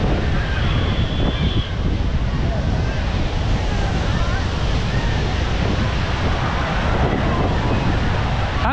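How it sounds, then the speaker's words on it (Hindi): Strong wind blows across the beach at Digha, a loud, constant rushing roar buffeting the microphone, with surf in the background and voices talking now and then. "यहाँ पे जो हवा है ना वो तो काफ़ी है"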